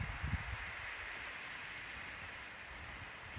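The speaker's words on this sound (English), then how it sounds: "Wind is horrendous" Strong wind buffets a tarp and bivy camp in Northumberland at night, a continuous hissing rush with low rumbling gusts against the shelter and no voices.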